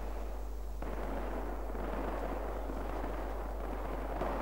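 A mortar fires in the World War II video game Iron Front, a heavy low boom that opens the sequence and then rolls away into a long, rumbling, noisy tail without speech.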